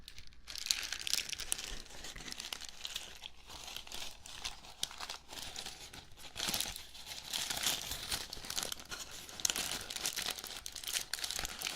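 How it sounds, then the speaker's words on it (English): Paper crinkling and crumpling close up, a continuous crisp rustle with a plasticky edge, rising and falling in bursts over the whole stretch with no voice. "sounds kind of like plastic, but it's just paper"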